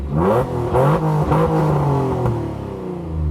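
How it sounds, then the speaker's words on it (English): Acura NSX fitted with a one-off custom AEM exhaust and a carbon fiber airbox, revving hard in repeated rising and falling bursts, loud and close, with no talk. "AEM made a one-off custom exhaust system."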